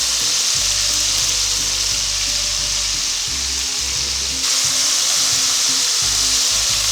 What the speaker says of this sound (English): And now we can put our shrimp in. Fresh shrimp.